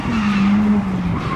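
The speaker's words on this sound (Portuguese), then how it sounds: "Puxou o freio de mão. Fez o fricar como se estivesse jogando um simulador" A car pulled into a drift with the handbrake lets out a loud, sustained tire skid with a steady squeal over engine noise, close and continuous.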